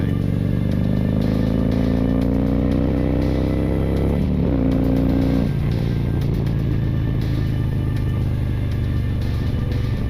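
A big Harley-Davidson touring bike (CVO Street Glide or Road Glide Special) with aftermarket exhaust pipes rumbles steadily up close, its engine note shifting in pitch as it rides along bumpy back roads, with a brief change in throttle midway.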